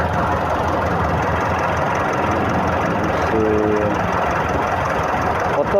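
A Mitsubishi Pajero engine idles with a steady, close rumble and light knocking texture, continuous throughout.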